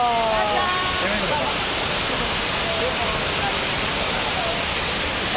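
Waterfall heard as a loud, continuous broadband roar of falling water, steady and close throughout, with a voice speaking briefly over it at the start.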